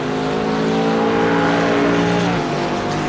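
A race car from a sim racing game brakes hard into a corner at Silverstone in a Ford Mustang race, its engine drone steady and loud, then dropping in pitch as it slows.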